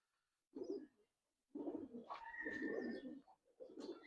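Giribaj pigeons coo in a few short, quiet bursts close by, separated by near silence.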